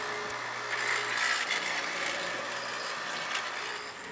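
A bench top mortiser cuts a deeper mortise in wood, a continuous close grinding and chiseling drone with slight swells in intensity and no voices.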